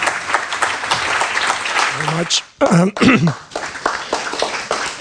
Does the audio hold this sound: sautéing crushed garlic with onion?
no